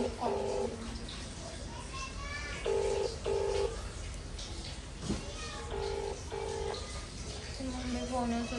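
An unanswered phone call rings out as repeated pairs of short electronic tones in a steady pattern, with voices and household noise in the background.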